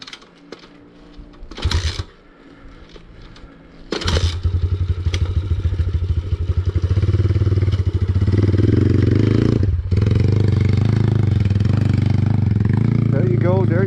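A Thumpstar dirt bike engine starts up and runs at a steady loud idle, close by, with a brief rev dip and people talking over it.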